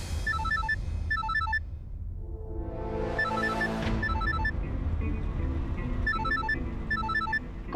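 A phone ringtone chirps in repeated short melodic bursts, loud and close, while a sweeping whoosh and steady background noise rise beneath it.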